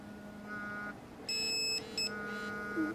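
A WIMM One smartwatch rings for an incoming phone call, giving a loud electronic beeping tone in two bursts over a steady hum of softer ringtone notes.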